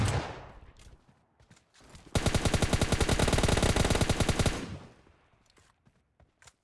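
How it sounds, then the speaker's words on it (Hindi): An S12K shotgun fires in PUBG Mobile Lite as a loud, rapid string of shots lasting about two and a half seconds, with quieter game sounds before and after. "आपको सामने में भी S12K चलता हुआ दिखाई सुनाई पड़ेगा"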